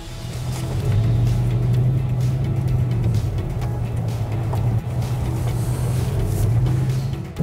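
A Skoda Kodiaq RS with 240 horsepower revs at a dealership in Rimini, its engine rising to a steady loud drone that holds for several seconds with small dips, close and without talk.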